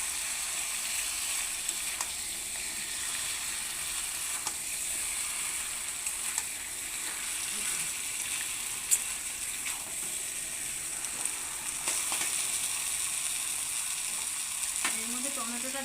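Chicken sautés in a pan for a chicken and potato curry, giving a steady, low, close sizzle with occasional faint stirring clicks.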